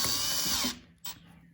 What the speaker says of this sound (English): There's a battery operated drill.